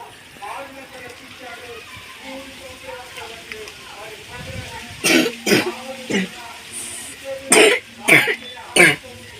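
Several sharp coughs near the end, a few separate bursts after a stretch of quiet talking, close and fairly loud.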